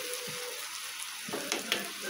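Steady, close sizzling of potatoes frying in a pan, with a few soft stirring clicks toward the end and no voices.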